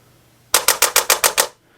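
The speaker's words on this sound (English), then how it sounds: "Now if I hold this down, it's going to just recoil once and then it'll start to kind of click like in a machine gun mode" Sinden Light Gun with recoil, trigger held in machine gun mode: seven rapid, evenly spaced mechanical clacks in a quick burst, close and loud, with no talk.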